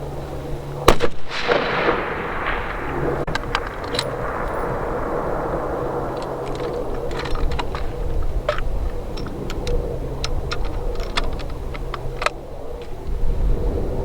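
Rifle shot at a moose during a Newfoundland hunt, one loud, close crack followed by a long rolling echo and outdoor rustling, with a few sharp clicks afterward.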